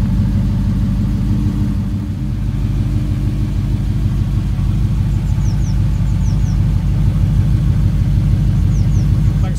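A Triumph Stag V8 burbles from its exhaust, a loud, close, throbbing low rumble that dips briefly, then settles into a steady pulsing idle with a faint chirping sound above.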